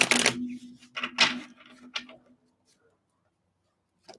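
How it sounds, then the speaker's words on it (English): Tarot cards riffled in a few quick, crisp bursts during the first two seconds, with a faint tap near the end and silence between. "One more shuffle."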